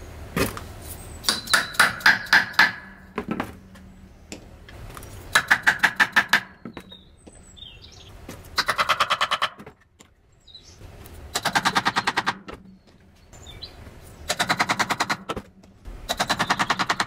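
Hollow punch hammered through hood insulation for a Peugeot 206: rapid bursts of sharp metallic strikes in several separate runs, loud and close, with short pauses between.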